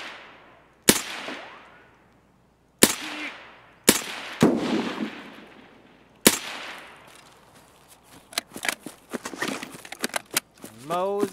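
Automatic Mosin rifle firing in the Escape From Tarkov video game, a handful of sharp, loud single shots with echoing tails spaced a second or two apart, followed by rustling movement and faint sounds of play.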